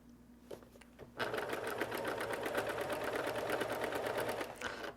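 A domestic sewing machine stitches quilt binding for a few inches in a steady, close burst of rapid mechanical stitching that starts after a quiet second and runs to near the end, with no talk.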